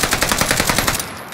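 Rapid bursts of automatic gunfire in a shooter video game, dense and continuous near the listener, thinning slightly toward the end.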